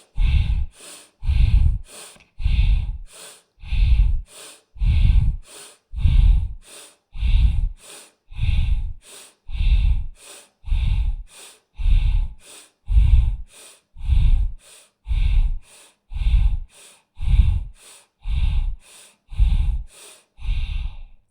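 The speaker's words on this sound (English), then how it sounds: "Breathe deep and loud." Deep, loud yogic breathing through the throat, a steady series of about seventeen forceful breaths in an even rhythm, close and alone with no talk.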